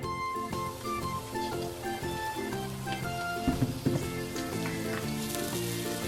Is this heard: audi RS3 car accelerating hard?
no